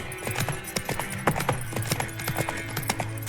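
Roach, the horse in The Witcher 3: Wild Hunt, trotting with steady rhythmic hoof clip-clops close by, accompanied by faint tack jingles and a brief snort or whinny.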